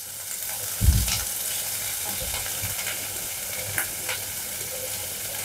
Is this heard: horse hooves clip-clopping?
no